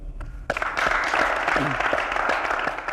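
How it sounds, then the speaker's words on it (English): Contestants on a televised singing talent show clap for themselves in a dense, steady burst of applause that starts abruptly and carries on close and loud, with scattered voices mixed in. "I think it's a good time again to give yourselves a round of applause"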